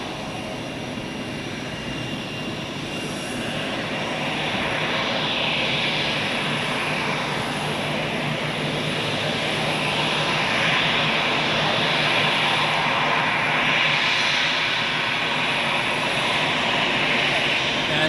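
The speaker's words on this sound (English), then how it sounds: "The Seattle flight is in position for takeoff." An airliner takes off from Zurich Airport, its engine roar swelling into a loud, steady, broadband rush that holds close and strong across the whole stretch.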